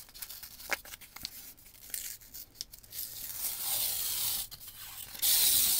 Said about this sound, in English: we're just gonna go ahead and peel back the paper on here